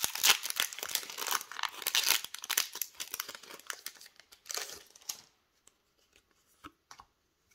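Pokémon card booster packs are torn open, giving close, crinkly foil ripping and crackling in busy bursts that stop abruptly, leaving a few faint rustles and taps before quiet.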